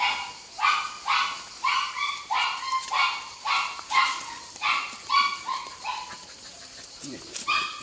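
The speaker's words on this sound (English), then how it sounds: "This is just a little handbag dog." A tiny handbag dog yaps in a quick, steady run of about a dozen sharp barks, close and fairly loud, while someone talks softly over them.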